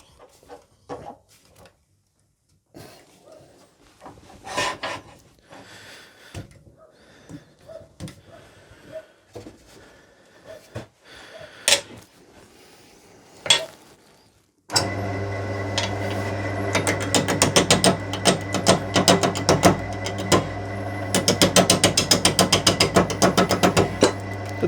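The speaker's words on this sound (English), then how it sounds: "So the first stage is to get this lump of wood fastened onto the lathe and begin to get it turning." A lump of wood is clamped onto a wood lathe with scattered knocks and clicks, then the lathe starts and runs with a loud, steady motor hum and a busy rattling whir for the last ten seconds.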